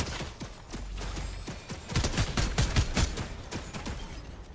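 Rapid automatic turret gunfire in a Fortnite match, a dense run of sharp shots that swells louder in the second half and keeps going to the end, with game ambience underneath.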